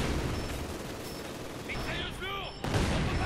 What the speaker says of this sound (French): Mitrailleuse lourde.